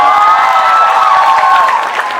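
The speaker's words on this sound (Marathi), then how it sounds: "इकडे साठी एकदा जोरदार टाळ्या" A college crowd applauds and cheers loudly and steadily for a couple of seconds, with mingled shouts, the clapping easing slightly toward the end.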